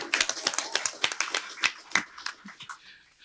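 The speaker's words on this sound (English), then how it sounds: "Please clap for him." A seminar audience gives a brief round of applause at an event on extractives and economic diversification in Africa, with dense, uneven hand claps close by for about three seconds that thin out toward the end.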